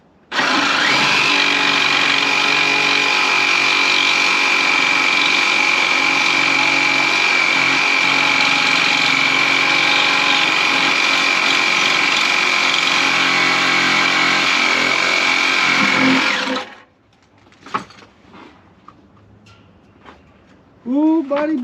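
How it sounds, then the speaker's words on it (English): A reciprocating saw cuts through the rusty exhaust on a Jeep Grand Cherokee with a loud, sustained buzzing whine for about sixteen seconds, then stops, leaving a few brief clanks and short bursts of sound. "sawzalls are way easier than socket wrenches for removing exhaust from rusty, dusty, crusty motors"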